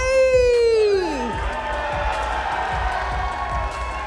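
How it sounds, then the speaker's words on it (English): A crowd at a Mario Kart esports event, the Texas Esports State Championship, erupts with a loud falling whoop, then settles into sustained cheering and hubbub. "Crowd, let's get some hype!"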